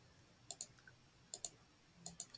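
A computer mouse clicking a toggle triangle in the Notion app: three pairs of crisp double clicks spaced evenly about a second apart, close and quiet against near-silence, no talking.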